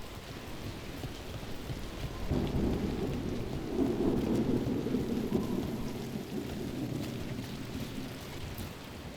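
Steady rain and a long rolling rumble of thunder in the video game Dragon Age The Veilguard, the downpour hissing throughout while the thunder swells after a couple of seconds and slowly fades, with no voices.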